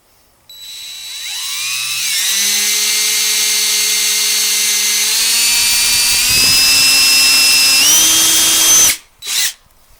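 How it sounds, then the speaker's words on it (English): A power drill bores pilot holes into the door of a C3 Corvette, its motor spinning up to a loud, steady whine that climbs in pitch for about eight seconds, then cuts off with a couple of brief final bursts. "we're going to drill some pilot holes first in the door just to get it started."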